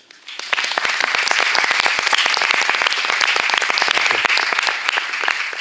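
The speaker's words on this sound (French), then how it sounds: "Merci de l'applaudir." Sustained applause from a concert audience at Lille Saint Sauveur, following a flamenco number: dense, steady clapping that starts abruptly and carries on at even loudness throughout.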